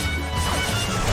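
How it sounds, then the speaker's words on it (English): A smashing blow lands in the Pokémon Battle Revolution video game, a dense, loud crash and impact burst that fills the whole short clip without any speech. "A smashing blow."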